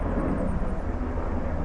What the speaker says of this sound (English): there's a helicopter making a lot of noise